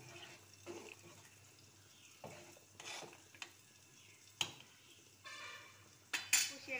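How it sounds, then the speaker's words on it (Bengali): Khichuri of half-cooked rice and lentils being stirred in a pot after turmeric powder goes in: soft scraping and scattered clinks of a spoon against the pot, with a few sharper knocks over a low background hiss. "এবার দেবো হলুদ গুঁড়ো, নেড়ে দেবো।"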